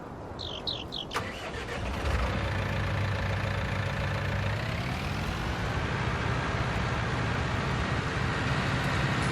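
A John Deere tractor engine in Farming Simulator 19 starts after a few brief beeps and settles into a steady, close, continuous idle with a low droning rumble.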